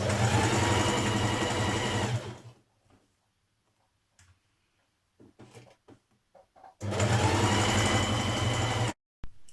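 Sewing machine stitching a casing on a Burda 6310 casual dress, a loud close motor run of about two seconds, a quiet stretch with scattered clicks and handling, then a second equally strong run.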